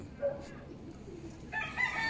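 Gamecock roosters crow faintly in the distance during training in Mabini, Pangasinan, a couple of drawn-out calls over low background noise.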